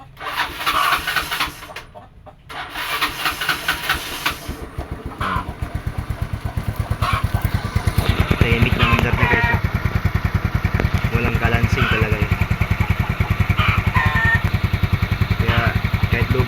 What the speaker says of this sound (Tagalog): yung si Mio Sporty 40 eh, good na good ang engine nito